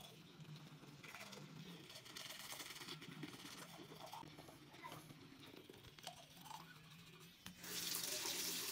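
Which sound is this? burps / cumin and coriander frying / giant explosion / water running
water running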